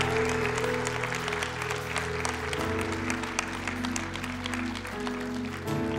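A church congregation claps steadily, a dense, sustained round of applause with an organ-like tonal sound underneath.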